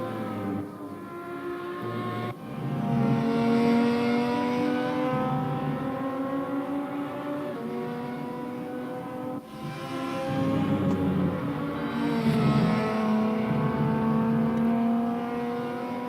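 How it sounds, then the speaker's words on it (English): Lotus Evora race cars at Laguna Seca during a championship race: a loud, sustained engine roar with repeated rising pitch sweeps as the cars accelerate through the gears, with no talking. "The car sounds pretty nice. I'll let you listen to that for a while."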